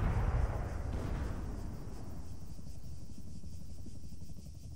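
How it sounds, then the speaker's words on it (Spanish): A helicopter goes down in the military game Arma 3, its rotor whine and engine roar loud at first, then settling into a steady buzzing drone that drops off near the end. "Ese helicóptero no tiene arreglo."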